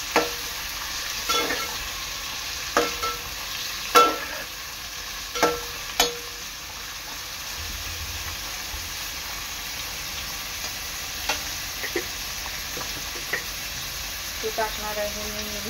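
Onions frying in a pan for chicken biryani give a steady close sizzle, broken every second or so by sharp scraping and knocking stir strokes, with no talking.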